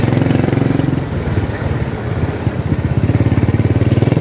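Motorcycle engine running close by on Algeciras Street, a narrow Manila street closed off by concrete barriers, with a steady, loud, pulsing putter throughout and no talk over it.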